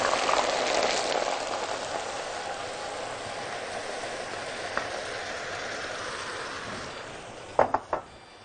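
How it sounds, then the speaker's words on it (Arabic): Onions dropped into a generous amount of hot oil, frying with a steady broadband sizzle and crackle throughout, close and fairly loud, with a few sharper pops near the end. "حبة زيت حلوين كده، واروح منزله فيهم البصل واحمره"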